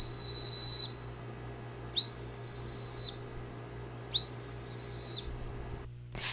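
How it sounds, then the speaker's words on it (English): Three long, shrill blasts from an emergency whistle, each lasting about a second, are evenly spaced to form a help signal. They sound loud and close over a low steady background hum. "I'm gonna play you the three whistle blows"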